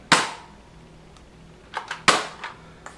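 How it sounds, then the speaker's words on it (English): A Nerf Elite Rough Cut 2x4 blaster fires a dart into a hand: two sharp, close pops about two seconds apart, each followed by small clicks and rattles of the pump-action mechanism. "Let's fire off into my hand."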